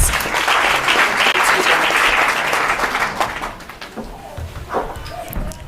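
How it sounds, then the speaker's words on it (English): Audience at a women in law enforcement seminar breaks into applause, a burst of dense clapping that peaks early then thins into scattered claps and faint room noise toward the end. "Can we please give her a round of applause?"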